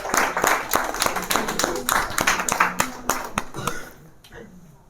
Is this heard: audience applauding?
yes